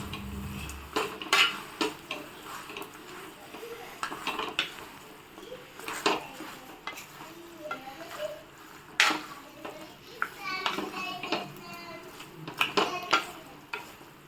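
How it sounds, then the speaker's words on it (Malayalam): Chicken being stirred into masala in a pan for chicken chukka, with frequent metallic scrapes and clinks of a spoon against the pan over a faint sizzle, no talking. "ചിക്കൻ ഇട്ടിട്ട് നന്നായിട്ടൊന്ന് ഇളക്കുക."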